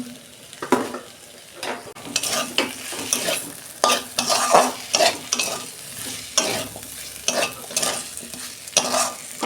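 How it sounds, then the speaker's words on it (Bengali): A utensil scrapes and stirs rhythmically through potatoes and vegetable stems being sautéed with a little sugar in a pan, repeated strokes over a soft background sizzle of frying. "দু মিনিট আমি কষতে নেব।"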